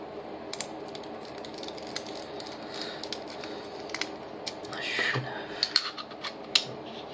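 Screws being fastened onto a QHYCCD PoleMaster mount: small metallic clicks, taps and scraping of hardware, close and fairly quiet, with a brief rustling handling noise midway.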